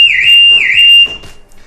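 A 2017-onwards Toyota Proace, Peugeot Expert, Vauxhall Vivaro or Citroen Dispatch van alarm gives two loud, close electronic chirps as it is switched off, followed by a brief quiet click or rattle.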